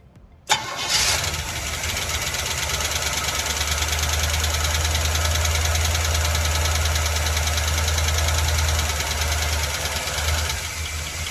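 An old 1981 GMC Sierra truck engine cranks and catches after a brief pause, then runs steadily with a loud, rough, knocking rumble that continues to the end.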